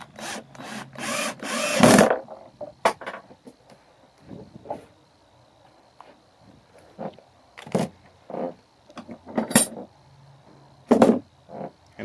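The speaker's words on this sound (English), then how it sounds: "I'm just putting 2-inch screws on the 2 holes." Work on a reclaimed wood phone stand: a drill drives 2-inch screws into wood in short bursts, with clunks and scraping between them and quiet stretches in between.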